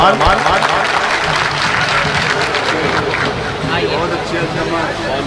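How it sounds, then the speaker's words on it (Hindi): Loud applause from a crowd welcoming a poet at an Urs committee gathering, steady dense clapping that fills the whole stretch, with voices mixed in. "तालियों की गूंज में इस्तकबाल करें"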